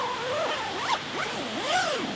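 Zipper on the door of a Big Agnes Fly Creek HV ultralight one-person tent, several quick rasping pulls back and forth heard up close with nothing else around it.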